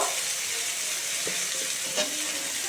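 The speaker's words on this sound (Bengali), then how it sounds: "দিয়ে ভালো করে নাড়বো" Drumstick and potato curry with turmeric stirred in a hot pan, a dense continuous sizzle with faint scraping of the spoon, close and steady.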